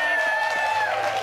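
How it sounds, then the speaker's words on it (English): An audience applauding Lyndon on a children's TV swap show, a dense continuous wash of clapping and crowd noise at close range, with a sustained tone running underneath. "Everybody, round of applause for Lyndon."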